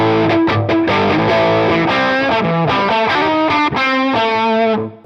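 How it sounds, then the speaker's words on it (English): Electric guitar through a Fender Hammertone Distortion pedal with the mid boosted, playing a run of sustained chords and notes, loud and continuous with a gritty, saturated tone, fading at the end. "The mid just boosted, giving us a really clear distortion sound."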